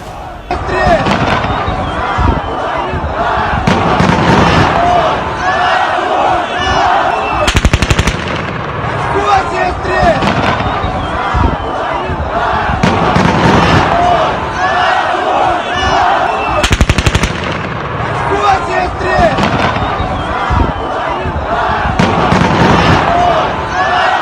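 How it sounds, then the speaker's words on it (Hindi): A large crowd of civilian protesters in Slavutych, Ukraine, chants slogans against Russian occupation, a loud, dense roar of many voices rising in repeated bursts that continue throughout. "वापस जाओ के गगन भेदी नारे लगा रहे हैं।"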